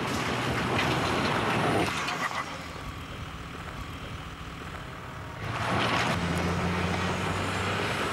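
Off-road convoy vehicles grinding up steep loose shale in the Australian outback, a loud continuous engine roar that dips in the middle and then swells again, with no talking.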